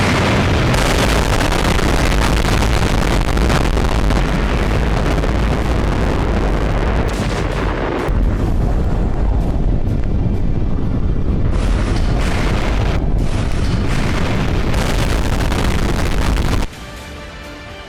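Tsar Bomba, the Soviet hydrogen bomb test explosion, heard as a loud, sustained rumbling roar that rolls on for over fifteen seconds before dropping off sharply.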